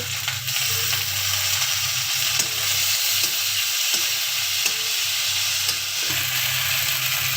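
Chopped tomato dropped into a pan of browned onion with garlic and ginger paste for a Bengali egg curry, giving a steady, loud, close sizzle that runs unbroken, with a few soft stirring knocks.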